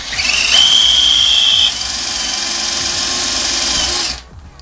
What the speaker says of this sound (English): the product itself, it definitely does work in terms of drilling the hole